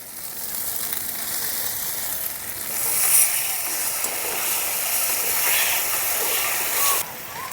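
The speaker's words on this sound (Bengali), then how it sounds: "মশলাটাকে ভালো করে কষিয়ে নিয়েছি, এখন এর মধ্যে দিয়ে দেবো টমেটো পেস্ট" A spice paste with tomato paste added fries in a pan, giving a steady close hiss and sizzle that swells briefly midway and then drops off sharply near the end.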